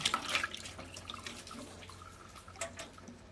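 Tap water runs into a container while sausage casings are soaked to draw out salt, a soft trickle with a few brighter splashes and drips near the start, close and fairly quiet, with no talk.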